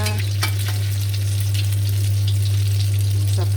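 Sizzling oil as a holy basil omelette fries in a pan, a steady close crackle with faint stirring scrapes and no talk.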